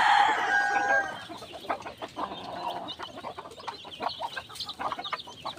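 Chicks in a small backyard chicken coop cluck and peep, with a sharp high chirping burst at the start giving way to steady overlapping clucks and scratching movement nearby, no talking.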